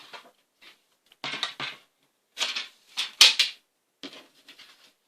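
Paper being cut for a scrapbook album, heard as several short crisp bursts of snipping or slicing in separate groups, close and fairly loud with quiet gaps between.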